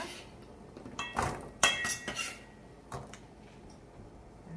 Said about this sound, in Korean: 이제 바로 볶을 거기 때문에 여기 팬에 넣어 보겠습니다